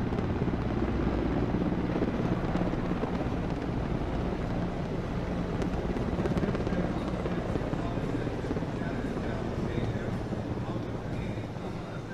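Helicopters shower flower petals over the crowd at the 2020 Indian parade, and their rotors make a loud, continuous, wind-buffeted roar. A commentator speaks over the din throughout.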